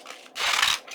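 Scissors snip through paper for a handmade junk journal, a short quiet cut followed by a longer, louder crunching slice and the start of another, close by with no talking.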